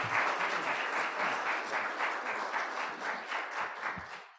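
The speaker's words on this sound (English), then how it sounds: "let's have a big round of applause for our panel" An audience applauds a panel at an aviation and airport update event, a dense, steady round of clapping from a sizeable crowd that fades out near the end.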